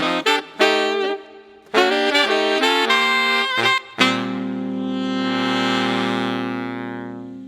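Alto, tenor and baritone saxophones of a swing big band play together in short, punchy ensemble chords, then hold a long sustained chord that slowly fades, loud and close with no talking.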